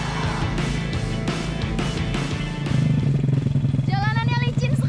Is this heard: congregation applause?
no